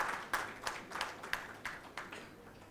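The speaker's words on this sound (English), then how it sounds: "Please give him a good round of applause." At a formal leadership ceremony, faint, slow claps ring out one after another in an even rhythm, about eight in all, from what sounds like a small scattered audience.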